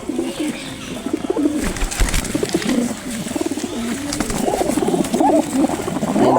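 Pet pigeons being hand-fed coo softly and continuously close by, with wing flutters and light pecking patter mixed in.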